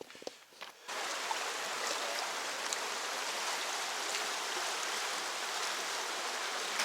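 A clear creek in the Olympic National Park rainforest flows steadily, a constant close hiss and babble of running water that swells in after a brief quieter second, with no talking.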